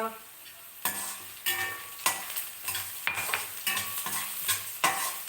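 Onions frying in a pan, lightly browned, with a hissing sizzle broken by regular scraping stirs roughly once a second, close up and with no talking.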